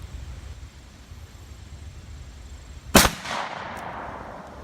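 A shotgun loaded with double-aught buckshot fires one loud, sharp blast outdoors, followed by a short echoing tail over steady background noise.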